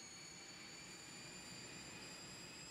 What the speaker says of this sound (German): Zwar hört ihr die Motoren hochgehen